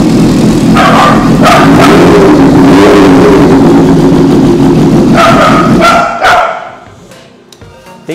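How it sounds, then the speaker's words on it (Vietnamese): A dog barks in short bursts, a couple early and more near the end, over the loud, steady exhaust drone of a Kawasaki Ninja H2 motorcycle that then cuts away to quiet. "Tiếng bô kèm theo tiếng chó."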